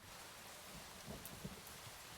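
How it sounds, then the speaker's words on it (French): Steady rain falls in the video game Minecraft, a soft, even hiss of drops with faint scattered patters, quiet and alone with no voices. "Il pleut, du coup il prend pas feu."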